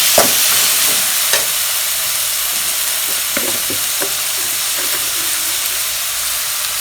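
Tomatoes and finely chopped onion sauté in a hot pan for Tamil egg curry, giving a steady close sizzle and hiss with occasional light clacks of stirring throughout.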